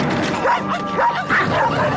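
Several cartoon dogs in an animal shelter bark and yip in an overlapping, busy chorus, loud and close, with whimpering tones mixed in.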